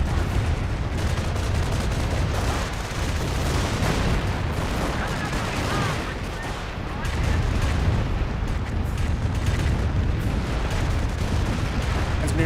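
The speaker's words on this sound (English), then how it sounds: "Fly your rocket barrage running in" Rocket barrage artillery in Company of Heroes, a dense, continuous roar of explosions and rumbling booms that fills the whole stretch, loud and sustained, dipping briefly midway before surging again.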